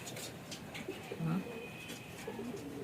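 Racing pigeons coo in a loft as they are readied for a race: soft, low, throaty coos repeat at close range over a steady background hum, with faint bird chirps scattered through.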